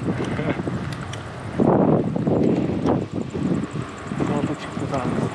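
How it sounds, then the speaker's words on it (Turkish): Strong headwind buffeting a cyclist riding at about 50 km/h on a road near Kıyıköy, a steady roar of wind noise across the microphone with louder gusts surging in the middle. "Rüzgar karşı atak yapıyor."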